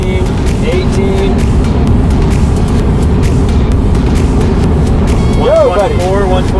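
A Tesla accelerates hard at full throttle on a track, its smooth, steady drivetrain and road rush running under a man's excited, continuous talking, with sharp vocal exclamations near the end.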